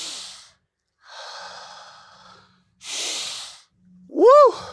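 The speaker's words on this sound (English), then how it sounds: "Breathing in that good ass prana, baby." Deep breaths are drawn in and let out outdoors in nature, three long breathy sighs in a slow rhythm, close and fairly loud, ending with a short voiced exhale.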